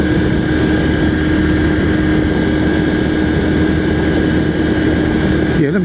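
A Honda Super Cub C125 motorcycle engine hums steadily under gentle throttle on an economy run, a constant loud drone with wind noise throughout.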